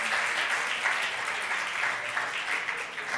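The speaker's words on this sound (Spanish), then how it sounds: "Un fuerte aplauso." Audience applause at an anniversary event fills the room as a dense, even wash of many clapping hands, held steadily throughout without pause.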